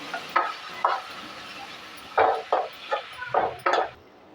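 Shredded cabbage frying in a pan, stirred in several short scraping bursts over a faint steady sizzle, close by with no talking.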